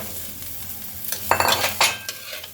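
Onion, mushroom stems and pointed gourd fry in a hot pan, with a soft background sizzle broken by a few loud bursts of stirring and scraping as the vegetables are tossed.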